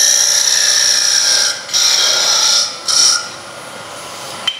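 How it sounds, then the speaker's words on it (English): A small wooden dowel cut with a power tool, giving a loud, close, high-pitched buzzing whine that holds steady, stops briefly twice and returns in a short burst, then ends with a faint click. "So we're going to cut a small dowel now at the back of this so it makes it easier to attach"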